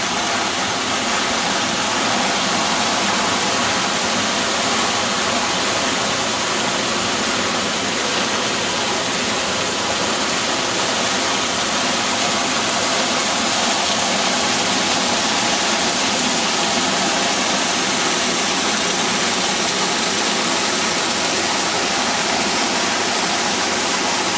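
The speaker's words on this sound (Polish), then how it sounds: "słychać ten szum wody." Continuous, loud rushing of fountain water, a dense unbroken roar with no pauses or voices throughout.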